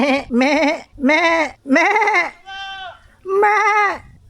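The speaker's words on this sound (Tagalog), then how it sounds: "Eh nakita ko yung kulungan ng mga kambing. Yan oh. Andun yung mga kambing oh. Kadami nila oh." Many goats penned together on a farm bleat loudly and close by, a run of five or six wavering calls with short pauses between them.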